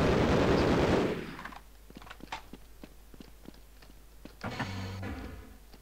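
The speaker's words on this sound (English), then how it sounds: "I'm firing so many bullets." Gunfire in the video game Half-Life: a loud burst of rapid shots opens, then scattered sharp clicks and impacts follow, and a mechanical whirring rises near the end.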